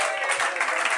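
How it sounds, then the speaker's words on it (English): Participants at an activity aboard the cruise ship Celebrity Solstice applaud in a brief, bright burst of clapping from a small group that fills the full second. "let's give yourselves a round of applause."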